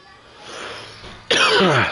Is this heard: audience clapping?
no